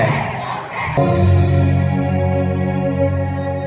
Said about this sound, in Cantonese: 歌迷都為佢歡呼